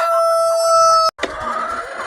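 A rooster on a small farm crows close by, one loud drawn-out harmonic call that cuts off abruptly, followed by softer clucking and farmyard noise.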